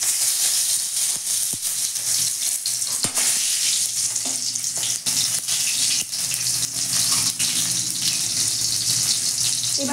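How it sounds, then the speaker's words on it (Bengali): Cumin seeds, slit green chillies and bay leaf spit and sizzle in hot oil in a home kitchen, a loud, steady frying hiss that holds for the whole stretch with small crackling bursts and no talking. "এবার আমি তেলের মধ্যে জিরে ফোড়ন দিচ্ছি, দুটো কাঁচা লঙ্কা চেরা দিচ্ছি।"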